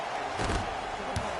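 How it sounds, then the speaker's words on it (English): Booing from an arena crowd in the NBA Live 19 basketball video game during a Lakers at Wizards game, a broad steady crowd roar with a couple of louder swells. "I'm hearing some boos from the crowd."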